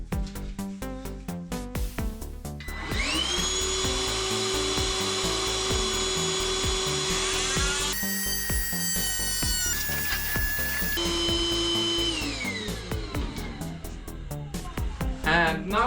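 A loud power tool cuts through a fiberglass composite panel in a workshop, with a steady high-pitched whine sustained for several seconds that shifts in pitch as the load changes, between brief pauses.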